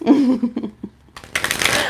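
A deck of cards is shuffled up close during a live card reading: a brisk riffle of rapid crisp flutters after a few softer handling sounds.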